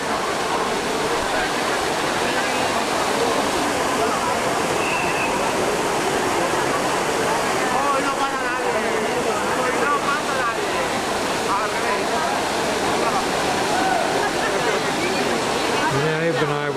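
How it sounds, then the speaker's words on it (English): Water pours and splashes steadily at the Trevi Fountain in Rome, a loud continuous rush filling the scene, with crowd murmur from the surrounding square mixed in. "we're now at the Trevi Gardens. The Trevi Fountain, rather."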